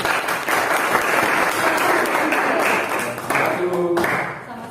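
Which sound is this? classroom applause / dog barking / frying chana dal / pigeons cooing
classroom applause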